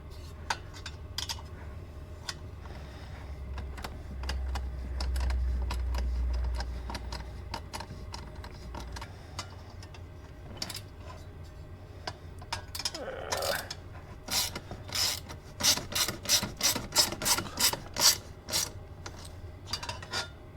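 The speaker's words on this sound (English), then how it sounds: "Get in here with our wrench." A wrench tightening bolts on a snowbike storage mount, with quick metallic clicks and ratcheting bursts, scattered at first and then a dense rhythmic run near the end.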